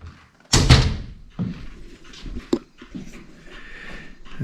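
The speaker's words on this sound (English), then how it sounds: "Shut the door." A door on a residential lift in an 1830 half-Georgian farmhouse is pulled shut with a single loud thump, followed by faint rattling and creaks from the cab, while a dog pants nearby.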